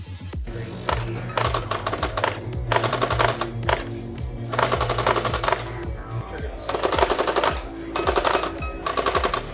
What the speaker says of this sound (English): we're basically in a shooting range with the choice of a gel shotgun or a gel rifle that can shoot semi-auto or full auto